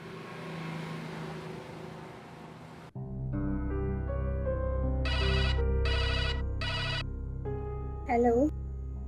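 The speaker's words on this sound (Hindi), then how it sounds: "नूर, आपके लिए कॉल है, सुन ले।" A telephone rings in repeated electronic bursts over a low steady hum, three rings in a row followed by a short warbling tone.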